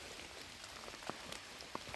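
Rainwater drips from trees in an autumn forest, a faint steady patter with a few sharper drops landing close by at irregular moments, with no one speaking.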